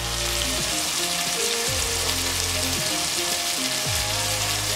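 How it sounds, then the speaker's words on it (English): Chicken frying in oil, a steady, loud sizzle and crackle that runs without a break under a low cooking hum. "I want this chicken to cook very well. That is why I put it inside this oil"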